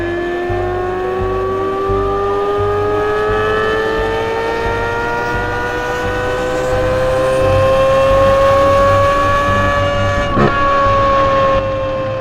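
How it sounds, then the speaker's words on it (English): A 2023 Chevrolet Corvette Z06's flat-plane crank engine sings alone in one long, loud, steady rising pull. The whining tone climbs smoothly for about twelve seconds, with a brief click near the end. "The flat plane crank is a symphony."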